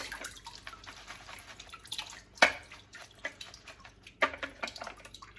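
Tap water rinsing dust off fresh organic basil leaves, with light irregular drips and splashes and a couple of sharper splashy hits, close and moderately quiet, with no talking.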